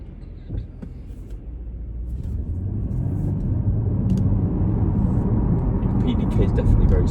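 A 2025 Porsche Panamera 4 with a 2.9 V6 and 8-speed PDK gearbox drives along, its low engine and road rumble swelling steadily from inside the cabin while people talk over it.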